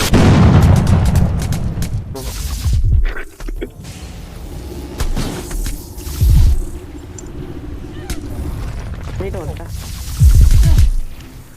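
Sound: thudding gunshots in the Roblox game Marvel Omega

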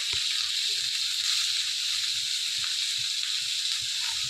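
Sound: mustard seeds spluttering in hot oil

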